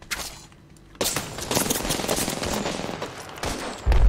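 Rapid automatic gunfire from weapons in Apex Legends, including dual RE-45 pistols, erupts in loud dense bursts with sharp cracks, pausing briefly before resuming and ending in a heavy low boom.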